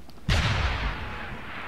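A single loud gunshot from the video game Deus Ex Human Revolution, a sharp close blast followed by a long rumbling decay.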